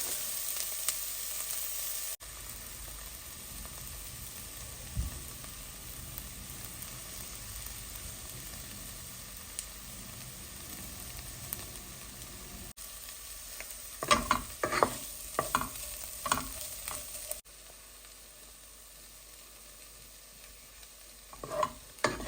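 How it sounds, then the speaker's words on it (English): Onions and tomatoes with mustard seeds sautéing in a pan, a soft ongoing sizzle with bursts of scraping and stirring clatter in the second half, no talk. "Added some onions and tomatoes with mustard seeds and getting them sauteed well."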